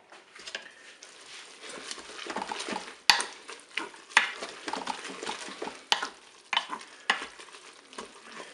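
Spaghetti with tomato paste being stirred in a Cookeo multicooker pot, with soft sizzling and scraping under a series of sharper knocks and clinks of the utensil against the pot, no talking.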